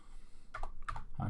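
Quick bursts of typing on a computer keyboard, a few clustered clicks close to the microphone with short pauses between them and no talking.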